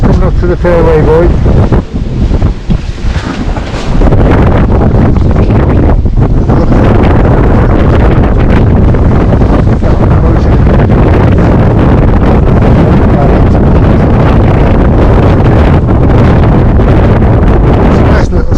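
A sailboat crossing open water on its first sail of the year, with heavy wind buffeting the microphone continuously over rushing water and waves.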